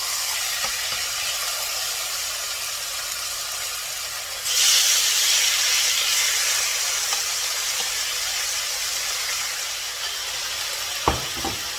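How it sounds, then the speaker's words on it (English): Steak hits a very hot pan and a loud, close hiss of sizzling jumps up, then holds as a steady bright crackle with a brief clatter near the end. "Ensure that the pan is really hot before you put your steak."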